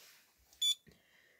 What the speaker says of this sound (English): Tests the buzzer, make sure that every single crystal on the pixel on screen is on.